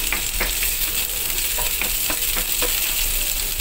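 Chopped onions sizzle loudly and continuously in hot oil in a home kitchen, with soft scraping strokes of a spoon stirring them at a steady pace.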